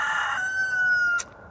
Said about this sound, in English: there it is. So this year we have a rooster.